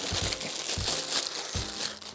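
A plastic pouch around a 7Artisans 12mm f/2.8 lens crinkles and rustles as it is handled during unboxing, a close, dense crackling that comes in several bursts over a couple of seconds.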